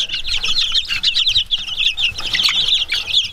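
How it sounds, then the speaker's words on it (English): A flock of chickens of mixed, unidentified breeds, some black and white, clucks and squawks continuously and loudly, close up, in a dense overlapping chorus with no talking. "We just don't know what these chickens are."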